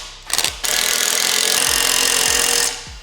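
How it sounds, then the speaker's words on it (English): A 13mm drill bit cutting off a nut welded to a bar during a VW Passat R36 restoration: a few short bursts, then a loud, steady grinding whine for about two seconds, close to the listener. "So get hold of a 13mm drill bit and you should be able to separate it."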